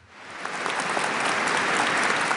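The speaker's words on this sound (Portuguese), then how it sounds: "a que a Assembleia respondeu com uma salva de palmas" An assembly at a cardinals' consistory, the first of Pope Francis's pontificate, breaks into a round of applause; dense clapping swells in quickly from quiet and holds steady, broad and reverberant.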